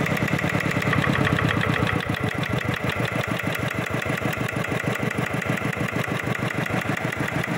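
A Mitsubishi NM7 7 hp diesel engine at 2400 rpm runs up close with a steady, rapid thumping beat, slightly louder at first, then settling into an even idle.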